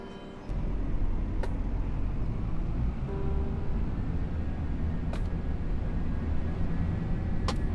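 A continuous low rumble of buses rolling past in Farming Simulator 25, with a few sharp clicks breaking through the steady traffic drone.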